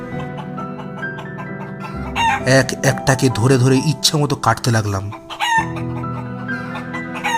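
Caged chickens cluck and squawk loudly and agitatedly at close range as an audio drama effect, layered under a narrator's voice and backing music.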